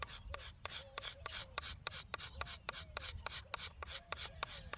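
A cabinet scraper shaves the wood of a longbow in quick, even strokes, about four per second, each a crisp close rasp with short gaps between.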